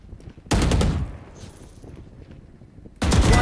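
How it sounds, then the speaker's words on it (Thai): Gunfire in the Valorant video game, two loud bursts of rapid automatic shots roughly two and a half seconds apart, with quieter game sounds between them. "ทำยิงปืนขึ้นฟ้า"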